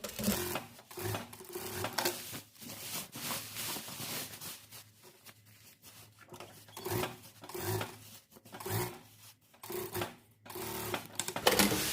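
Sewing machine stitching the seams of a ribbon dress, running in several short bursts with brief pauses between runs, a steady mechanical whir and clatter close up with no talking.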